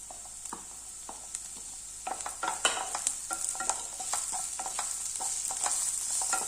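Capsicum is sautéed in a pan, giving a soft, steady sizzle with irregular clacks and scrapes from the stirring spoon. It stays fairly quiet and close.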